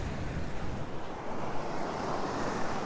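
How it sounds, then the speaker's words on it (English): Strong seaside wind at Hervey Bay buffets the microphone in a steady, loud roar, mixed with the rush of waves and surf, continuous throughout with no voices. "It's quite windy out here, so I'll try not to talk over the mic."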